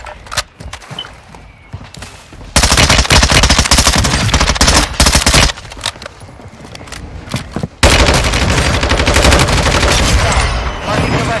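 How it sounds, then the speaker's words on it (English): Gunfire in Warzone 2 Resurgence: a loud chaotic firefight of long automatic bursts and scattered single shots, close and harsh, with brief quieter gaps and no clear speech. "Taking effective fire!"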